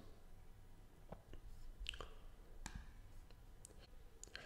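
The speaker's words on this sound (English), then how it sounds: "I can go and click on it." Computer mouse clicks in a quiet room, a few faint, sharp ticks scattered over several seconds against soft background noise, with no talking.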